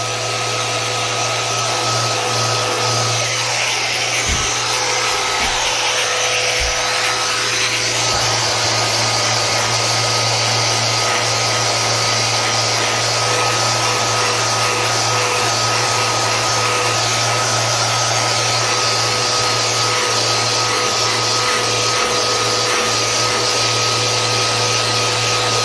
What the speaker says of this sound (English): So I'm just gonna use my little palm sander.